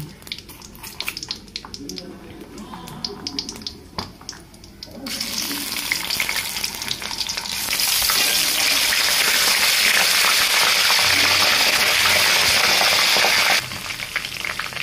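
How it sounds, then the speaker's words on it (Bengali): Ginger paste hits hot oil in a pan for mutton curry and bursts into a loud, steady sizzle that swells and holds, following earlier quieter clatter and a voice talking. "এর ভেতর আমি এখন পরিমাণ মতো আদা বাটা দিয়ে দেব।"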